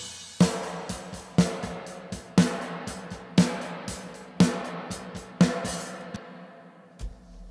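Snare drum hits drenched in a System 9 reverb impulse response, about seven strikes each trailing a bright mid-range tail that blurs into the next, ending with a low thump.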